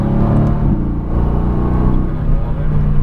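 A 2017 Mercedes-AMG GT S engine pulls hard on a race track, a loud, steady, close-up drone building under gear changes, with an instructor's voice talking over it.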